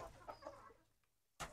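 Backyard chickens eating freshly cut grass let out soft clucks that fade into a brief lull, then a louder burst of clucking at the end.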